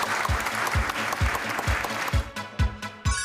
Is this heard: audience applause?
yes